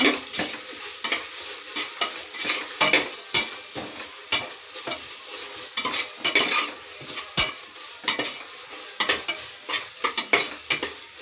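Green paste for soya biryani stirred and frying in a pan, with a steady sizzle under repeated scraping strokes of a spoon against the metal, close and fairly loud.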